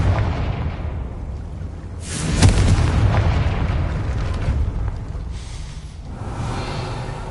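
The Confringo spell goes off in Hogwarts Legacy: a single heavy, booming blast that bursts in suddenly, then rumbles and fades over several seconds, with no talking.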